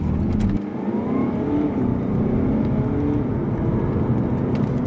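Audi A5 diesel car launching hard from a standstill, its engine roaring loud and close in a sustained, steady rev with a brief dip near the start, no talk over it.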